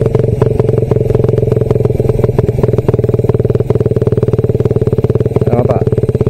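Honda Raider 150 motorcycle fitted with a 32mm carburetor, BRT coil and BRT CDI, its engine running loud and close with a steady, rapid pulsing throb throughout and no talk over it.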